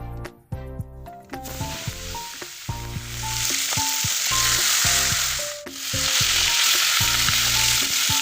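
Salted, turmeric-rubbed bhola fish frying in hot oil, a close, loud sizzle that swells and stays steady while the pieces are added one by one, with utensil clinks and background music throughout.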